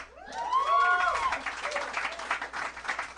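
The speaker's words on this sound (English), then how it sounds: "This is a smattering of applause." A small smattering of audience applause at a live comedy podcast taping, a few enthusiastic people clapping, heard alongside overlapping talk and a brief vocal sound at the start.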